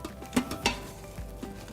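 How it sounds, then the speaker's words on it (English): A spoon stirs a thick cream cheese mixture in an Instant Pot, with a few soft scraping knocks against the pot, quiet and close. "So now we're just gonna stir it all up until all the cream cheese and everything is well combined."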